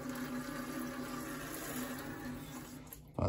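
Air and water hiss and gurgle through the hose of a backflow test kit as a residential backflow preventer is bled, a steady close rushing flow that stops abruptly at the end.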